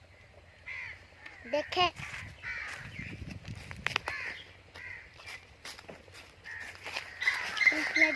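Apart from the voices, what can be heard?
crows cawing near their nests in a village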